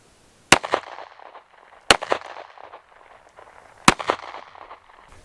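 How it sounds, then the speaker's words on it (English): Three sharp, loud gunshots from a 5.7x28 firearm loaded with Vanguard Outfitters hollow point rounds, fired at level 3A body armor, each crack spaced about 1.5 to 2 seconds apart with a short ringing echo after each. "we're going to be shooting it with the hollow points from Vanguard Outfitters"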